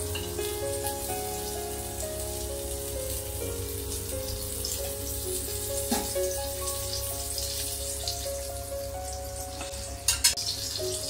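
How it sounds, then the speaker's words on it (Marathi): Rava-coated rohu fish fries in oil on a pan with a steady, soft sizzle that runs throughout, no talking, and a couple of brief clatters near the end. "आता मी तेल घातलंय. आता फिश फ्राय होणार."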